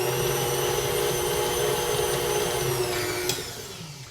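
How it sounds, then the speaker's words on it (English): A stand mixer whirs loudly and steadily as it mixes a sugary pie dough, its motor holding a constant pitch before it eases slightly near the end. "So I'm just going to do a scrape down and another quick little hit, and our dough will be done."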